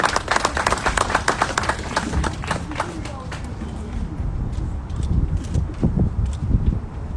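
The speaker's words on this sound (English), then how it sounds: "Would you all give her a round of applause?" Audience applause greeting a grieving mother as she is brought up to speak at a live-streamed gathering, a steady wash of many hands clapping, moderately loud with crowd noise and voices mixed in throughout.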